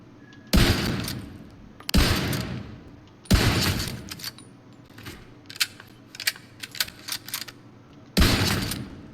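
Sniper rifle fire in The Division 2: four loud, sharp shots spaced a second or more apart, each with a long ringing decay, and lighter clicks and impacts scattered between them.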